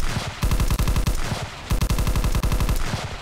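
Rapid automatic gunfire in the VR shooter War Dust, loud close bursts of rattling shots separated by short pauses, no voices.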